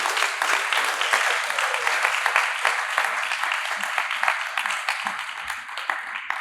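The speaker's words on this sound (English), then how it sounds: "A round of applause for Grace Teko Ohupeni." Audience applause for a speaker at a youth debate grand final, a steady dense wash of many hands clapping throughout, fairly close and full, with no talk over it.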